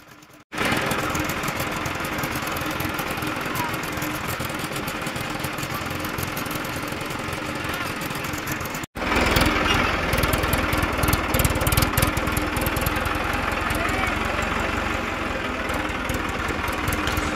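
A tractor engine runs steadily while fodder is loaded into its trolley, a loud continuous mechanical drone with rattling vibration, briefly cutting out near the middle before resuming just as strong, with no voices.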